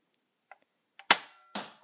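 A single sharp toy foam-dart blaster shot cracks out close by after a few faint clicks, with a second loud pop following about half a second later; no talking.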